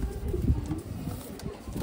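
Punjabi Malwai pigeons coo in soft, low, throaty murmurs, several repeated calls close by over a faint background rustle.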